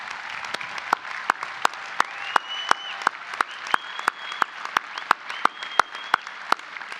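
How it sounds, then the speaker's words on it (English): Steady applause from a commencement audience honoring graduating students, with a dense wash of clapping and sharp individual claps standing out, held at an even level throughout with no talking. "Ladies and gentlemen, give them a round of applause."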